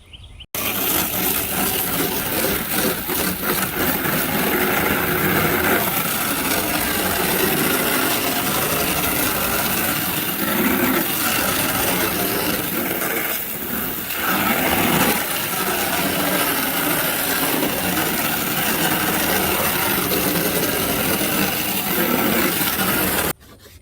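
A goldfish pond being scrubbed out by hand, with steady, close, rough scraping and rubbing strokes that run almost without a break for about twenty-three seconds and stay loud throughout.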